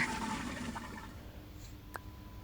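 A toilet flushing in the Avatar World mobile game, a short cartoonish whoosh of water that fades quickly, followed by a small click, with no talking.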